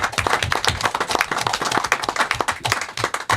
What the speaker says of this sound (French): on peut faire un petit applaudissement